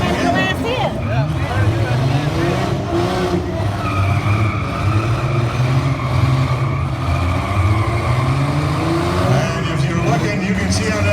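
A race car at a Dixie Classic Fair V-6 main event revs hard, its engine wailing and tires squealing continuously while locked against another car, with an announcer talking over the noise.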